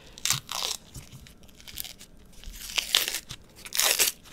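Cured pork capocollo pulled apart by hand, giving close, crisp tearing and crunching bursts in irregular clusters with quiet pauses between.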